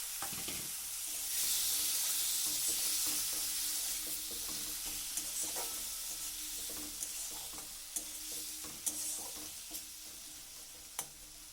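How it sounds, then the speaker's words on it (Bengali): Chopped tomato tipped into a hot sizzling pan of spinach dish base, a loud hiss swelling then settling into steady frying, with spatula scrapes and taps as it is stirred. "একটা বড় সাইজের টমেটোকে কুচিয়ে রেখেছিলাম, টমেটোটা দিয়ে দিলাম।"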